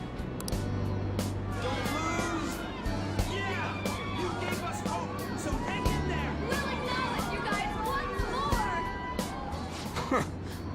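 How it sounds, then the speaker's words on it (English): Crowd of many human voices in the Persona 5 video game, a dense continuous babble of overlapping voices held at a steady level throughout, with a low droning hum beneath. "Those are the voices of the humans you made fun of."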